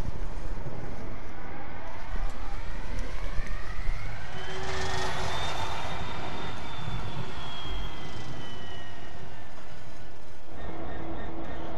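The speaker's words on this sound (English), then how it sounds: "the engine will start gathering revs" A Class 66 diesel locomotive engine cranks and spins up in the video game Train Sim World 2020, a steady mechanical roar with a rising whine building over several seconds as revs gather, loud and close throughout.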